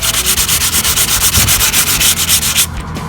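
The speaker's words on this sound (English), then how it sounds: "nagsasand from the old paint" Old paint being sanded off a garage door, a loud steady rasping with a fast back-and-forth rhythm that runs continuously and then drops away near the end.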